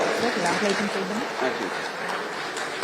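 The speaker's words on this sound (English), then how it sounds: "Please, everyone, give a big round of applause." Audience applause at the Indiajoy 2025 conclave event, a steady wash of clapping from a crowd that carries on for the whole stretch, with a voice speaking over it at the start.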